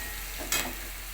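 Chopped onion frying in a pan for batata poha, with turmeric being added, gives a faint steady sizzle that swells into a brief louder burst of frying hiss midway.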